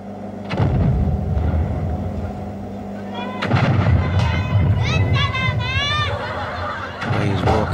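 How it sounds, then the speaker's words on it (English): Cannons firing balls at contestants on the Japanese game show Takeshi's Castle, with booming shots over a constant noisy crowd background, and excited voices and shrill whistle-like squeals rising near the end. "these cannons. Very accurate."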